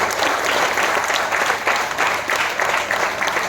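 Audience applause at a birth anniversary gathering in Nanded, India, welcoming a representative from North India: dense, steady clapping from a large crowd that fills the whole stretch at an even level.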